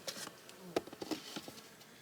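Honey bees buzzing around a nucleus hive in an apiary, a soft close hum with faint, uneven flickers as individual bees fly past, no talking.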